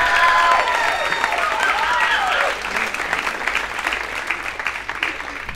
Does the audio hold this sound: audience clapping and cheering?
yes